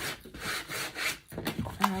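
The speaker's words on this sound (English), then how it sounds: "we're going to burnish this" A junk journal cover made with Stamperia Winter Tales papers is burnished with dry rubbing strokes, a soft scraping back-and-forth close by across two seconds.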